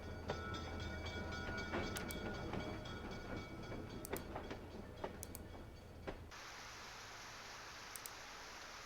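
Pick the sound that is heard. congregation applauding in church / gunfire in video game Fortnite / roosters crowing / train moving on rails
train moving on rails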